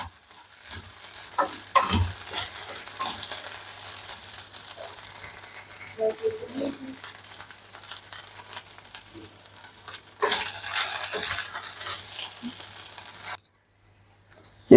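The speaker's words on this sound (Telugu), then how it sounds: "ఇది బెండకాయ కొద్దిగా వేగాలండి ఇంకా" Okra (ladies' finger) sizzling and frying in a pan, a steady low crackle with occasional louder bursts of spattering, fairly quiet and heard alone.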